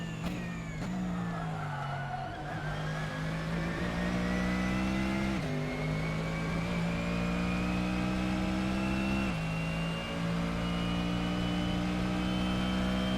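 A GT3 race car engine in Assetto Corsa at the Montreal circuit holds a steady, loud drone throughout, with sharp pitch drops at gear changes and brief throttle lifts.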